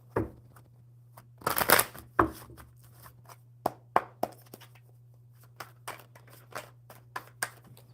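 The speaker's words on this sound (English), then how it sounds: "One more good shuffle." Playing cards shuffled by hand at a casual card table, a loud riffle burst near the start followed by a run of sharp, spaced taps and smaller riffles, close and clear with a low steady hum beneath.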